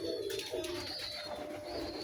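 Domestic pigeons coo softly in a short burst of low, throaty, repeated calls, fairly faint and close, with no talking.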